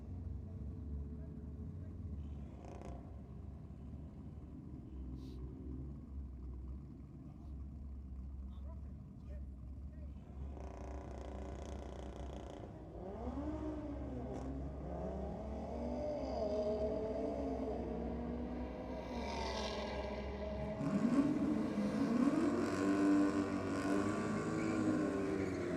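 Volvo and Ford Capri drag racing at Sydney Dragway on a drag and drift night, engines idling low then revving and rising in pitch as they launch and pull away, loud and continuous with a commentator talking over them.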